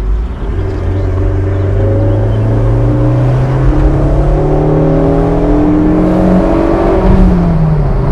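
Fiat Barchetta engine revving after a downshift, a loud sustained drone whose pitch climbs steadily as revs rise, heard from inside the car with no talking.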